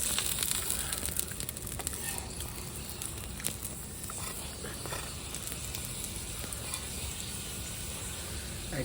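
Radish-stuffed paratha frying in oil in a pan, a dense, steady sizzle and crackle that runs loud and unbroken throughout, with no voices over it.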